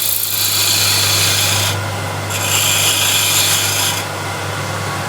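A woodcarving gouge worked along its wing, shaping an outside curve in wood, gives a steady rasping, rubbing scrape that runs continuously at close range, with brief pauses between strokes and no talk.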